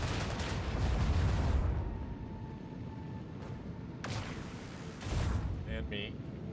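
Heavy booming weapons fire and rumbling blasts roll through ship combat in Warhammer 40K Rogue Trader, loud at first then fading into a lower rumble, with another burst near the end under occasional talk.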